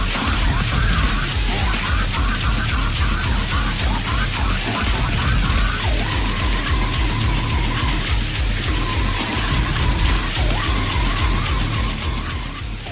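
A snippet of dense slam death metal from a Bavarian band's album, with heavy distorted guitars, pounding drums and harsh vocals playing continuously and loud.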